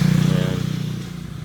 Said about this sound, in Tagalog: Ito yung may mga motor.